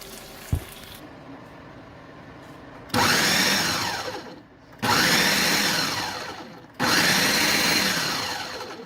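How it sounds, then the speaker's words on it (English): A food processor or blender pulses a cooked filling until chunky: three loud whirring bursts of about two seconds each, with short pauses between them, after a small knock and a quiet lead-in. "put it in a food processor or a blender and pulse it a few times until it's chunky"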